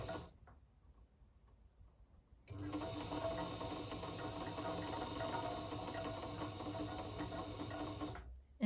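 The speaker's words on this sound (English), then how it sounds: "And there you go, there's your bobbin winding." A Janome New Home Model 702 sewing machine winds a bobbin, starting after a quiet stretch of small handling noises and then running as a steady, close, busy mechanical whir with fine ticking until it stops abruptly near the end.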